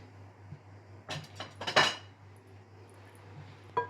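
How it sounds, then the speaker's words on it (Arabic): Metal ladle clinking against a pot as onion-infused oil goes over drained pasta for Egyptian koshari, a few sharp clanks and scrapes clustered mid-clip over a steady low hum, with a final knock at the end. "هنزل هنا بالزيت بتاع البصل"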